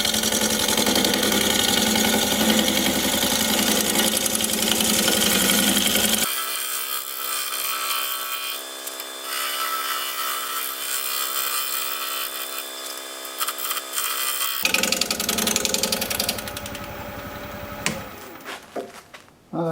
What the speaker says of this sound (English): I'm going to try my negative rake scraper on here,